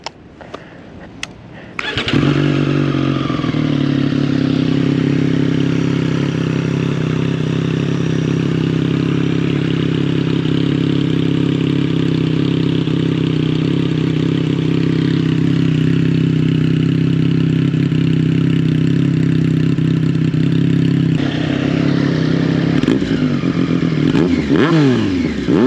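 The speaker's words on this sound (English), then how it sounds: "let you guys hear the exhaust" A motorcycle engine starts up and settles into a loud, steady, deep exhaust rumble close by, holding constant before shifting near the end.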